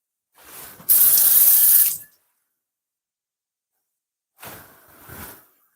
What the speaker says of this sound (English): Celery, just going to give it a bit of wash.